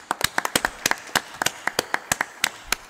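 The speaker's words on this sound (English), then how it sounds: "Let us give one big round of applause to the first six panelists." Attendees at a trade and postal logistics panel clap for the departing panelists, sparse individual hand claps sounding close and crisp in an irregular, uneven rhythm with no crowd roar beneath them.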